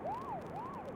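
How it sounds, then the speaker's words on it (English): A police car siren wails in two rising-and-falling sweeps, moderately loud and heard alone without any talk. "The sudden sound of a siren snaps me back to my senses."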